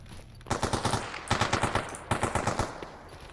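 Automatic gunfire in the game Stalker Anomaly, three separate bursts of rapid shots, loud and close, with short quiet gaps between them.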